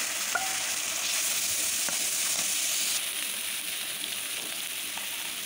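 Ginger, garlic and red chili paste sizzles steadily in a hot pan, a continuous bright frying hiss with a few small pops and stirring scrapes, close and without talk.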